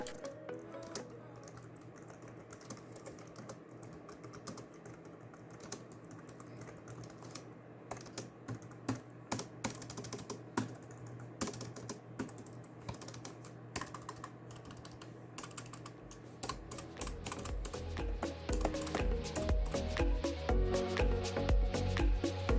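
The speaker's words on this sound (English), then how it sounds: "You can actually press the keys down and the feedback feels nice." Fingers tap steadily on a laptop's full-size keyboard with numpad, crisp close-up key clicks in a quick, irregular rhythm, growing denser and louder toward the end, with no talking.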